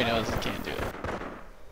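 Gunfire and heavy weapon blasts in a WWII strategy video game, a dense burst of sharp reports that fades into a decaying rumble, with a voice over the start.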